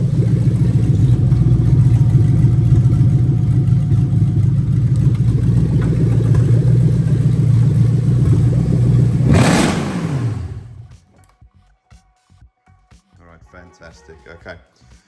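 A Toyota UZ-FE VVT-i V8 fitted in a Lexus IS200 runs loud and steady at idle with a rough low rumble, then cuts off abruptly, leaving near silence with faint handling noises.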